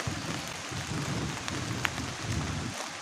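Heavy rain pours steadily on a camping shelter during a thunderstorm, a dense, constant hiss with low rumble underneath and no voices.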